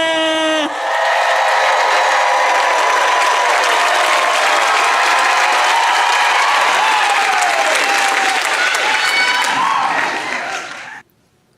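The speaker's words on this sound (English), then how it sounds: "Charleston, please make some noise for Josh Johnson!" A large comedy-show crowd in Charleston bursts into loud, sustained applause with cheers and whoops, holding steady for about ten seconds before cutting off.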